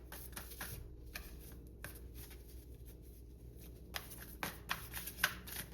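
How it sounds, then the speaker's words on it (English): A deck of tarot cards is shuffled close by in a quiet room, with soft repeated riffles and slides that come in uneven bursts and grow busier toward the end. "I'm not the best shuffler,"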